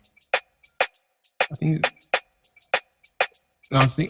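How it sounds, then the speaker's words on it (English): Sharp, evenly spaced percussive ticks of a shaker repeat through an Afrobeat beat, with a few fuller low-pitched thumps landing between them. "Then of course a shaker."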